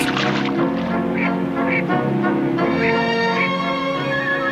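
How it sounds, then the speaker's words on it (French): Ducks returning north to breed call in a loud, honking chorus, with a few clear quacks rising over a dense, steady wash of calls. "Les canards reviennent du sud pour se reproduire."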